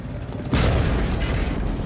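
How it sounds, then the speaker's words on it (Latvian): A strong explosion bursts on a highway in a wartime documentary, a sudden loud boom after a brief rumble, with broad roaring energy sustained to the end. "Uz šosejas parādās liels uzliesmojums, tam seko diezgan spēcīgs sprādziens."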